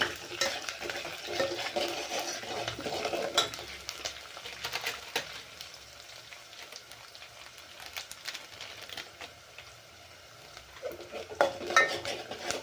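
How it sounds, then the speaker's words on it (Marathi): Onion with red chilli powder and masala stirred in a pan for pav bhaji, a steady close scraping and sizzling with light utensil clatter throughout, and no voices. "कांद्याला जास्त लाल करायचं नाही आपल्याला, असाच कांदा परतवायचा आहे."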